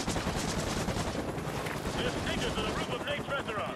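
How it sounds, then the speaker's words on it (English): Helicopter gunfire in the video game Modern Warfare 2 Remastered, a dense, continuous rattle of rapid shots with rushing noise, loud and close throughout. "you try running across and there's a helicopter shooting at you"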